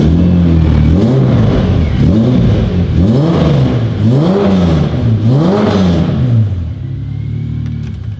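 A Toyota Supra fitted with a new exhaust revs repeatedly, four loud rising-and-falling engine swells in steady rhythm, close and dominant, settling to a lower idle at the end.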